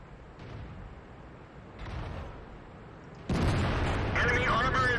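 A Soviet ISU-122S tank destroyer in the World of Tanks game fires its main gun, a single heavy boom that bursts in loudly after a stretch of low engine rumble and is followed by ringing debris.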